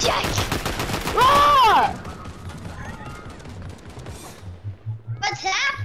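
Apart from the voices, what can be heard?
gunfire in the video game Fortnite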